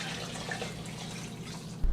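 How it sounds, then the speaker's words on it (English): Plain water poured from a container into a pan of soupy cornbread dressing rich with chicken broth, a steady close trickle running for about two seconds before a brief bump at the end. "So I'm gonna add some extra just plain water to it"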